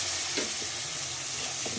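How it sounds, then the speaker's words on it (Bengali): Water poured into spice masala frying in a pan, a dense continuous hissing sizzle with bubbling, close and steady for the whole short stretch. "এখানে জল দিয়ে দিলাম।"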